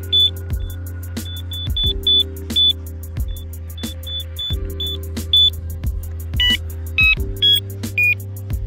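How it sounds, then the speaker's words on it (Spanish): Electronic bite alarms on carp fishing rod supports sound short, high beeps in irregular clusters, some rapid runs of tones, over a low steady hum. "está armando los soportes acá con las alarmas"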